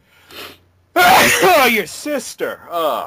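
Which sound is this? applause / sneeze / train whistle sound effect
sneeze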